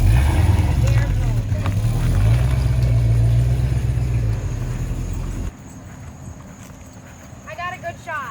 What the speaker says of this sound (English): Say goodbye to the Nova for the last time.